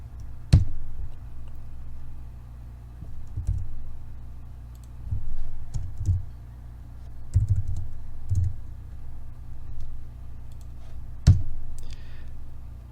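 Typing on a computer keyboard at a slow, irregular pace, with scattered sharp clicks and a few louder key strikes over a steady low hum.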